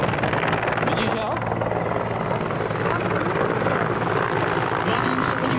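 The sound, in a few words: Mi-24 military attack helicopter flying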